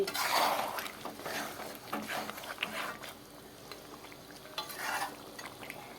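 Goat meat cooking in a pot, with a spoon stirring and scraping in short, irregular strokes, occasional metallic clinks against the pot and a low sizzle underneath, close by and moderately loud.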